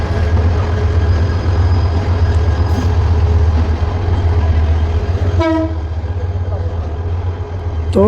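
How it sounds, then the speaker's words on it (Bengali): A university shuttle train arriving in Chattogram rumbles loudly with heavy low engine and wheel noise, then a voice starts speaking over the rumble in the final seconds. "তো এদিকে চট্টগ্রাম বিশ্ববিদ্যালয় থেকে শাটল ট্রেন চলে আসলো বিকাল 3টায়।"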